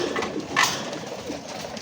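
Jacobin fancy pigeons cooing softly from close by, a short low murmur with a brief louder burst midway over a steady coop background.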